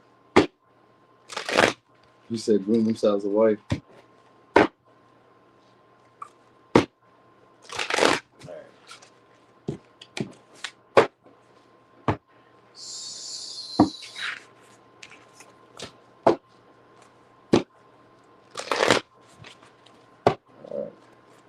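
Repeated brisk riffling and snapping of a deck of cards, several bursts separated by pauses, close up, with a brief spoken remark.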